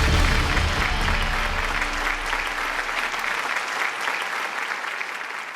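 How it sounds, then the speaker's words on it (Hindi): A studio audience on a televised competition show gives a round of applause, a close, full wash of clapping that starts with a low rumble and gradually thins toward the end. "तालियां इनके लिए।"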